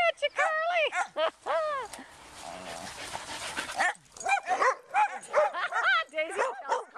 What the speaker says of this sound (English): Daisy's growling at you, Carly.